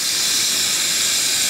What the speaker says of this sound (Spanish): Detrás de mí tenemos un respiradero de este volcán inactivo. La presión con la que saca el agua caliente es asombrosa.